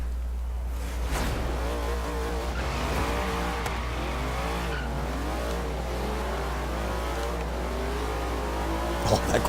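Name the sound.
Corvette car engine in Forza video game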